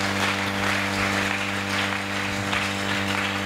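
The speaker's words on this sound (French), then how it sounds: "Acclamons très fort pour le roi." A church congregation applauds at a sermon, a sustained burst of many hands clapping at steady loudness over an underlying low musical hum.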